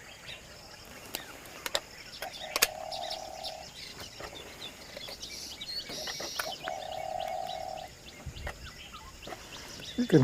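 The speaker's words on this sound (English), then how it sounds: "You can hear the cooing of a spotted dove in the background." A spotted dove coos in Yala, Sri Lanka: two drawn-out, fairly faint calls in the background, mixed with scattered bird chirps and quiet outdoor ambience.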